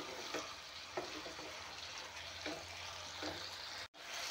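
Boiled fox nuts (makhana) sizzle in a hot pan with a continuous frying hiss and occasional stirring scrapes. A brief dropout comes near the end.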